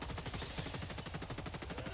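Rapid automatic gunfire in a video game blasts at bugs, a fast, unbroken stream of loud shots holding steady throughout.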